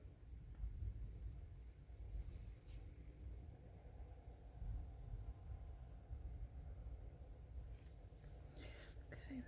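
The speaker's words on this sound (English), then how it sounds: "Sounds like thunder out there." Distant thunder heard from indoors during a resin craft session, a faint low rumble that swells and rolls continuously, with small clicks and handling noises over it.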